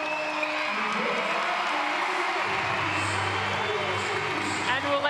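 Netball crowd at a Suncorp Super Netball match between the Melbourne Vixens and NSW Swifts cheering and applauding in a steady, loud roar that fills the arena, with voices mixed in throughout.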